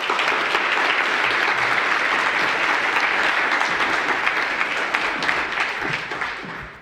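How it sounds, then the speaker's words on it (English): An audience at a lecture on educational disparities in Wisconsin gives a warm round of applause, dense and sustained clapping that tapers off at the end. "Please give a warm round of applause for Dr."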